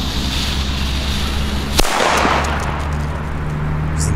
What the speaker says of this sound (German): Weiter geht's mit Böllern. Jetzt machen wir die Panda Booster D.